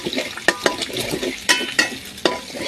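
Egg fried rice is stir-fried in a pan, with a soft constant sizzle broken by sharp, close scrapes and clanks of the spatula against the pan, coming at an uneven rhythm about every half second.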